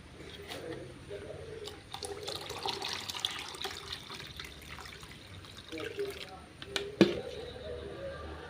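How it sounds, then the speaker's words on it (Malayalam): Thin rice water trickles and splashes as half a litre is poured, with faint drips and occasional clinks over quiet background. "അര ലിറ്റർ കഞ്ഞിവെള്ളം ഒഴിക്കുക"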